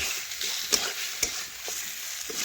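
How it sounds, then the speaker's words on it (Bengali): Chicken coated in red chilli powder is stirred in a pan over a wood-fired clay stove, a low frying hiss broken by a couple of sharp spatula clinks and scrapes; no voices. "এখন এটাও ভালোভাবে নাড়াচাড়া করে মিশিয়ে নেব চিকেনের সাথে"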